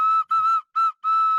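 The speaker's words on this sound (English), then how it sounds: "He's got the whistle." A whistle is blown in four sharp, shrill blasts in an uneven rhythm, loud and close with short gaps between them and no voices.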